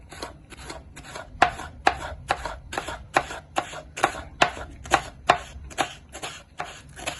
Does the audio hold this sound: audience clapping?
no